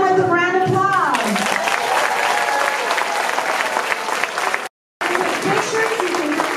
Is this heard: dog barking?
no